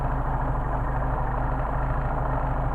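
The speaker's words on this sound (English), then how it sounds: "Alright, so we're going to adjust the idle up." A Mercedes 190SL engine with Solex carburetors idles steadily after an idle adjustment, a close, even low rumble with a faint constant whine and no voices.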